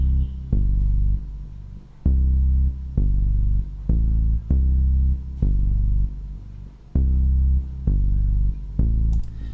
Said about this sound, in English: Alright, so that's basically the bass line.